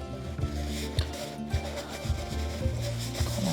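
Cloth napkin rubbing finish into a rustic wooden serving tray, with repeated short scrubbing strokes at a steady rhythm, close and moderately quiet, with no talking.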